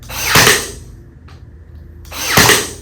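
Power drill driving screws into the wooden parts of a large pedestal table base, two loud whirring bursts near the start and end with a quiet pause between.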